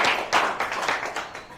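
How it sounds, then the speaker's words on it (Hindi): A small group claps for a man during a village-style game on a comedy web series, a short loose burst of uneven hand claps that fades over a second or so, with no talk. "तालियां"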